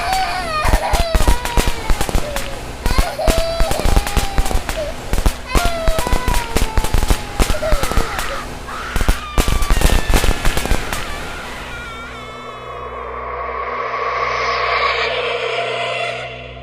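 Diwali firecrackers burst in a dense run of sharp cracks and pops, loud and close, with whistling rockets. Screams and cries mix in, and the noise fades to a lower rumble near the end.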